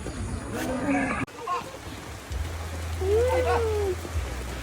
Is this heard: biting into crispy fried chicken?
no